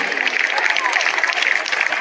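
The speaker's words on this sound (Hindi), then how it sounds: "आप तालियां बार बार बजाते ही रहिए" Audience applause at a school annual function, a steady dense clatter of many hands clapping close by, sustained without a break throughout.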